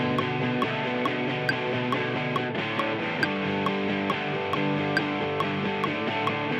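Heavily distorted electric guitar with extra drive, recorded through a miked amp, plays steady rhythmic chords with regular picked accents, loud and alone.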